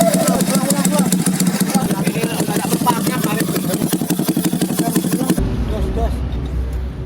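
A motorcycle fitted with a DOS Muffler Jogja aftermarket exhaust runs loud and close with a rapid, steady pulsing throb, then abruptly settles into a lower, quieter rumble near the end, while people talk over it.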